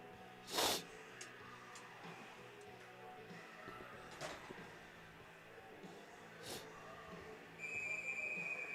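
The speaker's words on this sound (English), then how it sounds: "That whistle means it's time for everyone to get their poop in a group and play some Sunday morning hockey" A referee's whistle sounds before the puck drop at a junior varsity ice hockey game, a sustained shrill tone near the end, faint and distant beneath rink ambience and scattered knocks.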